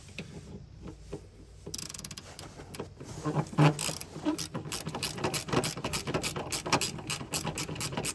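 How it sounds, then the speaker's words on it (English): Ratcheting wrench clicks loosening a nut on a Honda CR-V seat belt anchor inside the car, starting with a few scattered knocks, then rapid steady clicking, close up with no talking. "That's our nut right there, and I'm gonna use my wrench."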